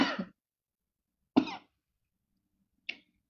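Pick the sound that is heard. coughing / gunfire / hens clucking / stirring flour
coughing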